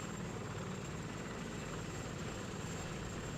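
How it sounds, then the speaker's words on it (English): Helicopter rotor and engine noise from a military video game, a steady, loud, continuous drone with heavy low-end thump filling the whole stretch, no speech over it. "Helicopters are engaging enemy to the north."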